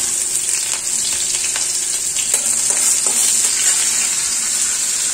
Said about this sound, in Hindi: इसके बाद मैं डालूंगी हरी मिर्च और लहसुन।